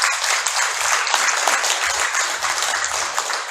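Congratulatory applause from the audience at a White Cane Day ceremony as an award is presented, a broad, even wash of clapping that holds steady throughout.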